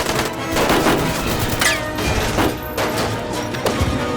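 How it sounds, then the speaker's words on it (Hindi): Rapid bursts of gunfire crackle amid crashing impacts and a roaring engine, loud and close, with sharp shots repeating throughout. "ओए गोली चला रहे हैं ये लोग तो।"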